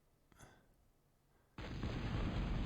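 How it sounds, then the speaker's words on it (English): A long-range plasma cannon fires in a video game, a sudden loud roaring blast after a faint, quiet lead-in, sustained and heavy to the end. "some kind of long-range plasma cannon"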